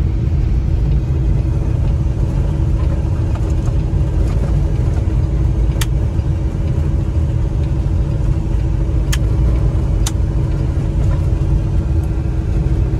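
Steady low rumble of a truck driving on a bumpy icy winter highway near Rogers Pass, British Columbia, with dull thumps and rattles throughout and a few sharp clicks.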